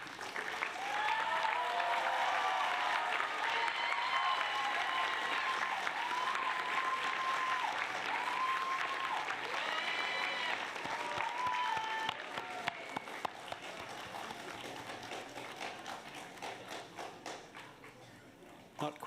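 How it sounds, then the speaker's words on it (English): Graduates at a university engineering and IT graduation ceremony applaud their families, loud sustained clapping with some cheering, tapering into sparse claps after about twelve seconds. "give them a rousing round of applause because they too have earned it"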